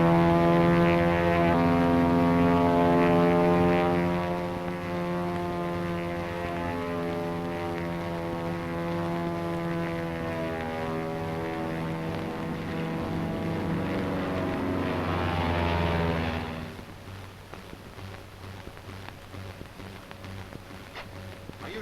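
A P-40 fighter plane droning overhead, a loud sustained engine hum with strong steady harmonics that shift in pitch as it passes, then fades away to a fainter rumble.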